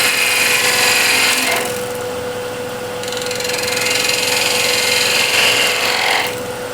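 A spindle gouge cuts the foot of a wooden disc flower vase spinning on a lathe, giving a loud, close, continuous rasping scrape that eases briefly in the middle and near the end before carrying on steadily.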